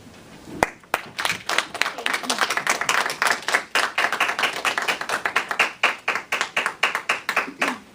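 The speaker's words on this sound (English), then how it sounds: "We're supposed to applaud until they get to their seats" A meeting audience claps steadily as speakers walk back to their seats, dense applause building after a sharp first clap and carrying on for several seconds with a few individual claps standing out.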